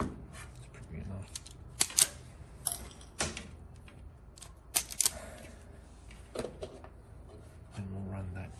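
Snips and clicks from cutting and handling an ignition wire on an 89-year-old Austin 7, a series of sharp close clicks spaced irregularly across the stretch over a low background, with no voices.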